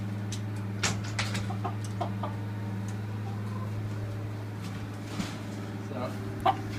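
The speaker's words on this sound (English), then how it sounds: "They're real nice chickens." Young chickens and a rooster in a coop give soft, sporadic clucks and clicks over a constant low electrical hum, fairly close but not loud.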